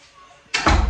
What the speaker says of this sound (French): attendez, je ferme un peu la porte